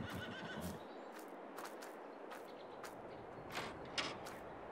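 Horses at a buy point beside a riding rink in the Farming Simulator 22 video game give several brief whinnies and neighs at moderate distance, with soft clip-clop of hooves and a steady ambient background, no talking.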